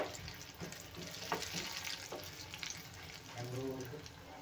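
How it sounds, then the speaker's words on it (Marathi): Garlic fries in hot oil for a tadka for Andhra-style tomato toor dal, a steady, fairly quiet sizzle with occasional stirring scrapes. "तर लसूण छान लाल भाजून घ्यायचा आहे."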